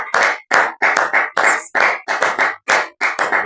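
A church congregation claps in a brisk, uneven rhythm of sharp hand claps, about three per second, loud and close, with no voices over it.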